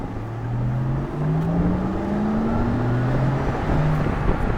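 A Porsche Taycan 4S electric car sitting stationary gives off a synthetic spaceship-like hum, a low steady drone that slowly rises and wavers in pitch, with no talking.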